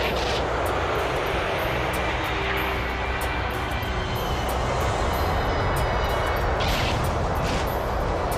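A Pan Am airliner arrives on short final to land, its engines producing a loud, continuous broadband roar that holds steady throughout, with a slight swell in the middle.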